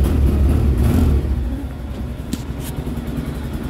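A Polaris Ranger utility vehicle engine cold starts and settles into a close, loud, rough rumbling idle that eases slightly in level after the first second.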